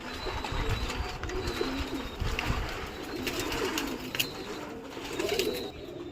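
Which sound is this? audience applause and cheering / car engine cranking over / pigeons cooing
pigeons cooing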